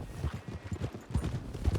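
Horses in Red Dead Redemption 2 clip-clop at a walk. The hoofbeats fall in a steady rhythm, close and fairly soft, with nobody talking.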